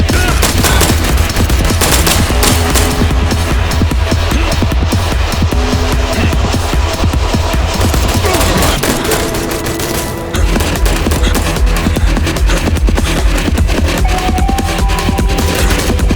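Dense, loud gunfire from the video game I Am Your Beast, rapid bursts of automatic shots and fusillades running almost continuously with booming impacts.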